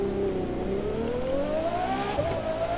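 A LaFerrari accelerating in the racing game The Crew 2, its engine note climbing steadily in pitch through a long pull, loud and continuous with no gear break and no voices.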